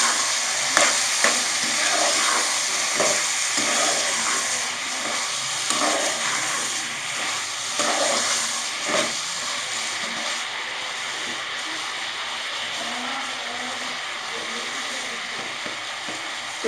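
Chili powder, coriander and ground spices fry in a pan with a constant close sizzle, broken by repeated scraping stirs and clinks of the spoon, no voices.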